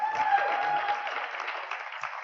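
Brief applause at an award event as an honoree is called: a mid-sized audience claps steadily for a couple of seconds, moderately loud and evenly spread, with a faint tone running beneath the first half.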